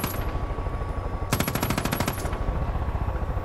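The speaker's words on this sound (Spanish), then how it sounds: "he disparado un poco por ahí a ver si pasaba algo" Rapid automatic gunfire rattles in a Far Cry 5 firefight, one sustained burst of closely spaced shots lasting about a second in the middle. Quieter game ambience fills the gaps before and after, with no voices.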